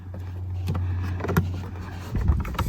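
An electric motor in a broken car seat drives the seat along one side, a steady low hum running throughout with a few clicks and knocks near the end.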